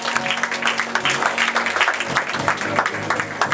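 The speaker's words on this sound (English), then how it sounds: "Somebody give God a hand clap of praise." A church congregation claps in praise, a dense burst of applause lasting a few seconds with scattered voices in the room.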